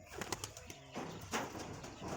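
Madras high-flyer pigeons coo softly with brief bursts of wing flapping, moderately close, against low background noise.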